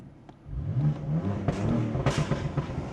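A BMW M4 F82 engine with Bootmod3 tuning revs up and down in short bursts while standing, with a couple of sharp exhaust pops, fairly close and moderately loud.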